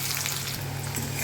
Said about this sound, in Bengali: ছোটো কড়াটা তেল গরম হয়ে গেছে, দিয়ে দিচ্ছি ফোড়ন। এবারে দেব কুচিয়ে রাখা পেঁয়াজটা